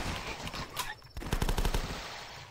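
Zombies get shot in the video game The Last Stand with a quick burst of gunfire, a short rattling volley of close shots after a brief lull.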